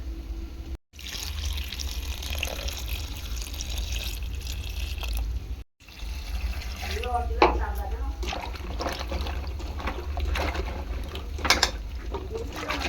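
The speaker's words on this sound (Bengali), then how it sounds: "প্রথমে ভালো করে ঢ্যাঁড়সটাকে ধুয়ে নিচ্ছি, আবার একটু জল দিয়ে দেবো।" Okra being washed in water in a kitchen, with running and splashing water, drips and sloshing over a steady background hum, close by, while a person talks over part of it.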